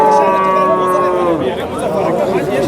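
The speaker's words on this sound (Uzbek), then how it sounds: "Mana ona bola sigir." A cow moos loudly and close by at a livestock market in Piskent, one long drawn-out call, with crowd chatter and other market noise underneath.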